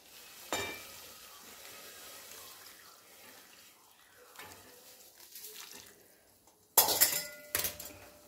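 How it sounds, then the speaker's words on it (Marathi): Kitchen clatter of a steel plate being lifted off a pot, followed by a short burst of hot water pouring and splashing into it, loud near the end after quieter rustling. "आता हे ताट काढून घ्यायचं आहे आणि यामध्ये शिजण्यासाठी गरम पाणी घालायचं आहे"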